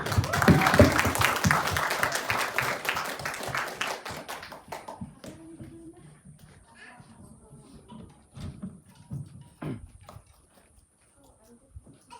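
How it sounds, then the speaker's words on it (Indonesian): Lively applause and clapping welcome a guest at a school talk show in Indonesia, dense and loud for about four seconds before thinning into scattered claps and talk. "kita panggil dan sambut Ustadz Wawan dengan tepuk tangan yang meriah."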